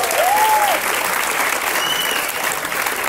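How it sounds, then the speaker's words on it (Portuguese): Applause from a church congregation fills the clip, a steady broadband patter of clapping at moderate loudness with faint tonal sounds drifting through. "Aplausos para Teteco aí."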